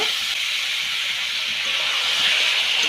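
Boiled potatoes frying in a pan hiss loudly as water is added, a close, steady, bright sizzle that holds constant throughout.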